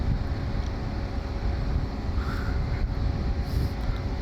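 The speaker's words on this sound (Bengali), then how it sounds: "বসন্তের হাওয়া বইছে।" Spring wind gusts over a boat on a river trip, giving a steady low rushing roar against the microphone that runs unbroken throughout, close and muffled, and no one speaks.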